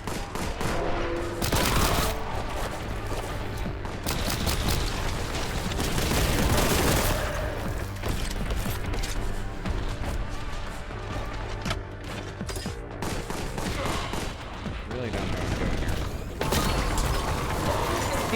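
Rapid, continuous bolter gunfire from Warhammer 40K: Boltgun, loud and dense with mechanical clanking and blasts layered over game music for the whole stretch, with no talking.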